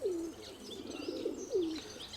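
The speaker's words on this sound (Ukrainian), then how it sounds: "Це 56-та голубка, ну минулорічна, стара" An old female pigeon lands and coos softly and repeatedly, a few low rolling calls with faint background chirps.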